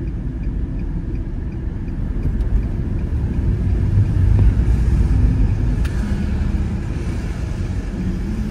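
A car rolls past on a street, heard as a steady low rumble of engine and tyres that swells slightly in the middle and then eases off.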